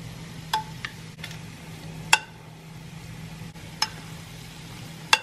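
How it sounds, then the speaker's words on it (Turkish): Partly cooked rice being stirred into a saffron sauce in a pan, with a soft steady sizzle and a few sharp scrapes and clinks of the utensil spaced apart. "Hazırladığımız ama tam olarak da pişmeyen pirinçleri bu hazırladığımız sosa ekliyoruz."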